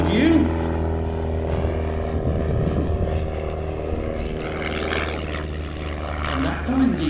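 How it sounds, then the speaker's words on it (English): A tiny Pitts aerobatic biplane with a propeller engine flies a display at the East Kirkby airshow, its engine droning steadily at a distance. A commentator talks over it the whole time. "Such a small aeroplane, just over 17 feet wingspan."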